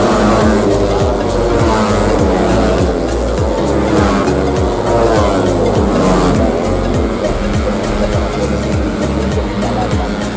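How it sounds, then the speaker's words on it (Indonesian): Yamaha 150cc motorcycles racing at the Bukit Peusar circuit in Tasikmalaya, a novice tune-up class race. Engines roar loud and continuously throughout, with revs rising and falling as several bikes pass close together, under an excited commentator's voice. "kini Anda menyaksikan bagaimana upaya pembalap Jordan yang diburu oleh 3 pembalap yang mendekati dirinya"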